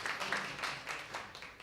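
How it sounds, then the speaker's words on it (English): Studio audience applause on a live radio show, a soft, steady patter of clapping that runs throughout at moderate distance, with no voices over it. "you spoke over the applause"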